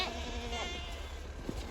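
Goats on a winter farm with cattle give a short, wavering bleat that overlaps a steady buzzing background, heard moderately close, followed by a brief second call near the end.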